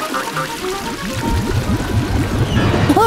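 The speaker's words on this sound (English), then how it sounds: "Flushing now!" A toilet flushes loudly and close up with a rushing, gurgling swirl of water that builds and keeps churning, followed by a few squeaky tones near the end.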